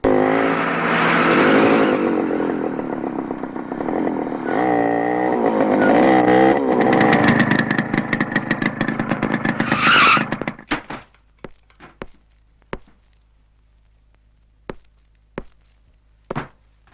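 A vehicle in a film scene brakes hard and swings around, a loud revving engine and tyre squeal building to a sharp screech, then the sound drops away, leaving a few scattered knocks and thuds.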